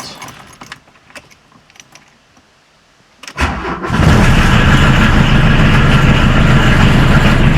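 A 1.5-liter diesel car engine cranks and fires up after glow plug warm-up and a few seconds of quiet rustling, then settles into a loud, steady clattering run.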